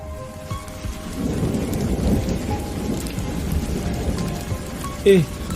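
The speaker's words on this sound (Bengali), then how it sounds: "এদিকে পথে মুষলধারে বৃষ্টি শুরু হয়ে যায়" A heavy downpour with thunder, used as a cartoon sound effect in a Bengali ghost story. It is a steady, dense roar of rain with a low rumble underneath, and a brief sharper sound comes near the end.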